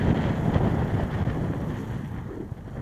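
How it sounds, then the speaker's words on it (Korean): Wind gusts across a frozen lake at Onuma Park in Japan, a steady, rumbling roar buffeting the microphone that eases slightly toward the end, with no voices. "아우 바람 분다"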